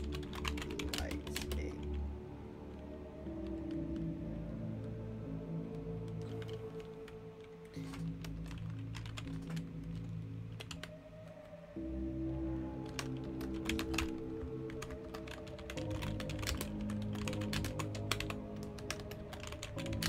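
Typing on a computer keyboard: rapid, irregular clicking keystrokes in dense bursts with short pauses, close and quiet, over a steady background music tone.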